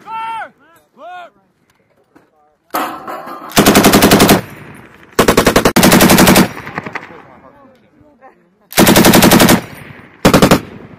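An M240B machine gun fires on a live-fire range in Finland, loud sustained bursts separated by pauses. Shouted commands come before the first burst, and shorter bursts follow nearby.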